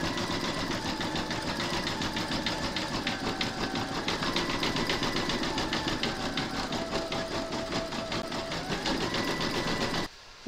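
An embroidery machine runs a zigzag satin stitch around an appliqué flamingo border, a steady close mechanical whir with fast rhythmic needle pulsing that stops abruptly at the end.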